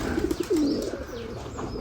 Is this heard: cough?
no